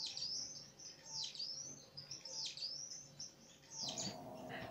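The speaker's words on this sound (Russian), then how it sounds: "а самцы поют их пение. Не очень громкое, напоминает немножко скрипучую скрипку." A male star finch (Neochmia ruficauda) sings soft, thin, squeaky phrases that repeat every second or so, faint and close, with a quiet low background hum.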